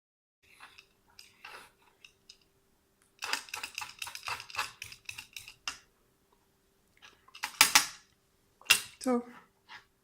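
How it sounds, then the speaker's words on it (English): Asparagus stalks being peeled, heard as bursts of quick, light scraping strokes in runs, close and fairly quiet, separated by pauses. "So I'm going to start doing this peeling for a whole bunch of asparagus."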